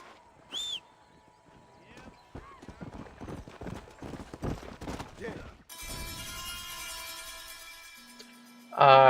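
Galloping horse hooves pound rapidly in the Red Dead Redemption video game, with bursts of gunfire and voices over them, followed by a steady musical drone and a loud final hit.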